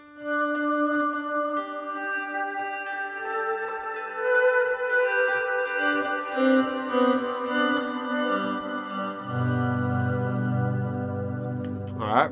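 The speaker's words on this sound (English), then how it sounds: "Let me actually turn the reverb and delay back on." Electric guitar notes through a Headrush Gigboard ring out with heavy reverb and delay, each chord trailing into a long shimmering wash, ending in a lower sustained swell.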